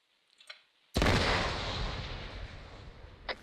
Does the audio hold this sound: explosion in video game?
yes